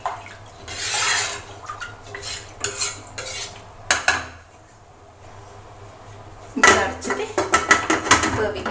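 Dal curry with turmeric and water being stirred in a pot, with utensil scrapes and clinks in bursts between quieter stretches, close and moderately loud.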